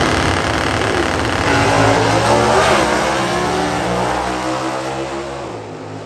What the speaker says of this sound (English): Jimmy Daniels driving away from Dennis Bergeron to move on to the next round